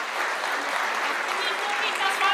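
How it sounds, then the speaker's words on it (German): An audience at a benefit art auction applauds, a dense, even roar of many hands clapping at once that holds steady throughout, with faint voices mixed in. "Also das soll nochmal ein extra Applaus werden."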